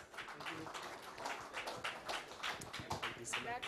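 An audience at a technical lecture gives a round of applause to welcome the lecturer, a soft, distant patter of clapping mixed with murmuring voices in the room.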